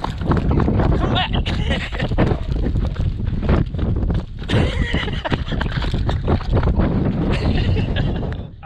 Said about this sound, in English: Don't mind the wind though.